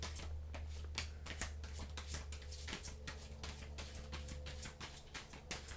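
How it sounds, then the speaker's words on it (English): A deck of tarot cards is shuffled by hand, producing a quick, regular run of crisp riffling bursts close to the microphone over a low background hum, with no talking. "I was actually telling Leo I need to just start shuffling these cards like often so I don't get out of practice."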